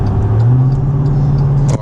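Second-generation Cummins diesel truck engine, smoking, close by with a loud steady drone and a brief rise in pitch, with voices over it.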